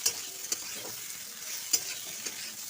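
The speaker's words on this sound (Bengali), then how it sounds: "সিদ্ধ করে চটকে রাখা মোচাটা দিয়ে দেবো। মোচাটা দিয়েও একটুখানি কষিয়ে নেব।" Boiled, mashed banana flower sautéed with diced potatoes in a pan: a steady soft sizzle with a few sharp clinks of a stirring spoon against the metal, close and moderately quiet.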